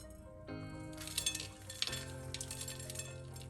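Seeds being added to a bean salad in a bowl, giving light clinks and stirring rattles close up, with a soft continuous background tone and no talking.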